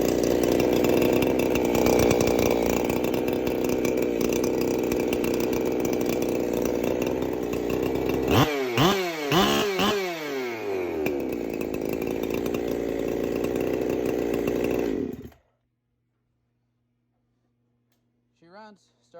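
A Husqvarna 372XP chainsaw runs loud and steady close by. Partway through it is blipped a few times, then it cuts out abruptly into near silence.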